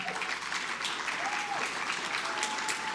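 An audience at a deputy governor's awards ceremony gives a steady round of applause for an honoree, even and sustained at moderate distance, with a faint voice now and then underneath.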